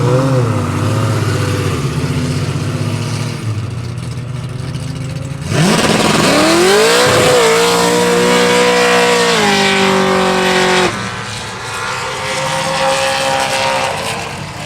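Roll racing cars, including a Supra, scream past at a Sydney 2024 roll racing event. Engines roar loud and close, one climbing steeply in pitch through a gear before holding a sustained wail, then dropping back as another engine takes over.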